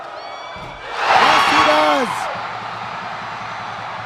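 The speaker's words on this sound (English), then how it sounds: "The crowd is going nuts." Basketball arena crowd erupting into loud cheers and whoops as a free throw ties the game, a roaring swell lasting about a second before fading to a murmur, with a commentator talking over it.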